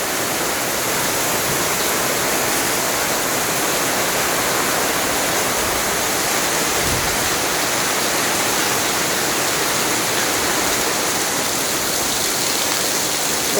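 Heavy rain pours down in Rajibpur, Kurigram, Bangladesh, a dense, loud, unbroken roar of water that holds steady throughout with no break or voices.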